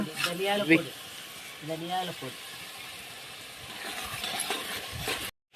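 Lentils stirred in a pan and fried until reddish give a soft, steady sizzle with scraping and stirring noises, and a voice comes through briefly near the start.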